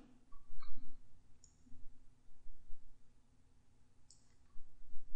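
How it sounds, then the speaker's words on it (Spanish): Sharp computer mouse clicks and Ctrl key presses come in small clusters of two or three, spaced by pauses, close and crisp over a low steady hum. "damos clic en la tabla que seleccionamos y aplanando la tecla control"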